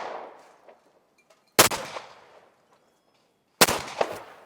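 Two sharp, loud shotgun blasts at a clay shooting ground, spaced about two seconds apart, each a close crack followed by a short ringing decay, with no talk over them.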